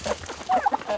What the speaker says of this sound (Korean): 산속에서 방목하며 키우는 닭들.